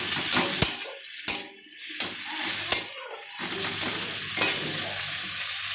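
Onions fry in oil in a pan with a steady sizzle, broken by a few sharp clicks and scrapes of stirring.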